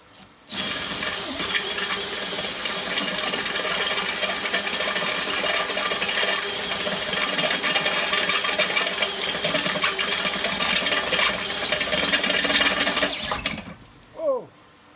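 A hand drill whirs loudly and continuously for about thirteen seconds while repairing a Brinly yard cart, then cuts off abruptly, followed by a short burst of sound.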